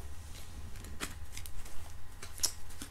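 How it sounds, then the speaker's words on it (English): A deck of tarot cards is softly shuffled by hand in a quiet room, giving a run of light riffling flicks and taps, close and faint, with no talk. "there's too many cards. So one more soft shuffle"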